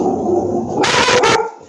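Dog barking indoors near an open window, a short, loud burst of two close barks with a brief whimpering tone just before them.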